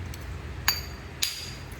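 Flintknapping petrified palm wood to make an arrowhead: two sharp, bright clinking strikes about half a second apart, close and distinct over a low background rumble.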